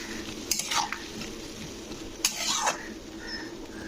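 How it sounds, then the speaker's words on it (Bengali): Tomatoes are sautéed and stirred in a pangas fish gravy, a soft continuous sizzle broken by two sharp scraping clinks of a spatula against the pan. "টমেটোটাকে কিন্তু একটু ভালো করে কিন্তু কষে নিতে হবে"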